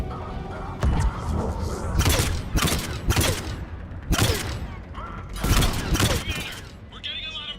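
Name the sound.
mortar fire and gunfire in video game Mass Effect 3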